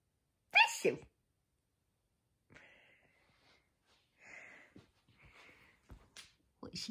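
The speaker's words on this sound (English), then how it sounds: "You sneezed all over yourself." One sharp sneeze near the start, then quiet snuffling and wheezy breaths, with a few more faint snorts and puffs toward the end.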